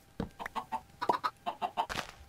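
Chickens on a farm in Minecraft, a quick series of about a dozen short clucks in an irregular rhythm, close and clear with no talk.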